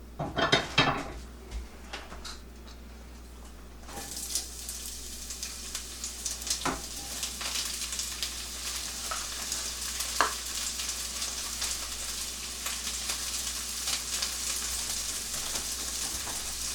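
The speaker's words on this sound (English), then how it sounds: "we're going to saute the onions and the peppers" Onions and peppers sauteing in olive oil in a pan, a steady loud sizzle running throughout with occasional clinks and scrapes of a utensil stirring against the pan.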